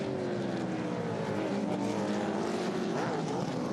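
Several V8 touring race cars roar around the Pukekohe circuit in New Zealand, led by a Nissan, with a loud, continuous engine drone and rising and falling revs as the cars pass close by.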